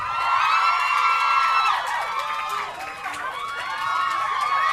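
A television studio audience cheers, screams and whoops loudly and continuously as film actors are welcomed onstage, with high, shrill voices rising and falling throughout.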